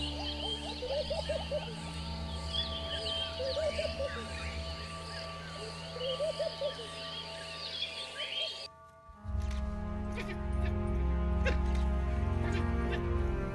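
African wild dogs on the open savanna give a string of high, chirping whimpers and yips, fairly close and overlapping, over a steady low rumble of wind and ambient noise that thickens in the later seconds.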